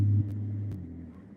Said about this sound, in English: This guy's got a really loud truck.